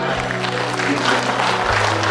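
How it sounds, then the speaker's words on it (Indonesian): An audience at a farewell event with the Subang regency's acting regent breaks into loud, close, continuous applause, with a faint hum underneath and no clear speech. "Tepuk tangan untuk"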